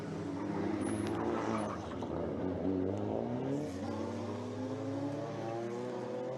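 Toyota rally car at the Circuit des Remparts 2017 historic race, heard as a moderately loud engine note whose pitch rises and falls as it drives past.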